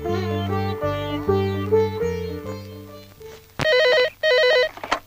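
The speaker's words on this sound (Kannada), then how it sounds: "ಪಾರುಕ್ ಫೋನ್ ಬಂದಿದೆ ಕಣೆ." Music plays first, then a telephone rings in two loud, sharp electronic bursts, close by and with no talk over it.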